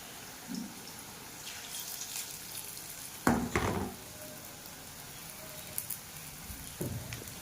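Small pakoras frying in oil give a soft, steady sizzle with watery crackles and a couple of louder spattering bursts, fairly faint throughout.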